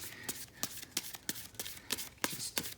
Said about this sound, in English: do some shuffling there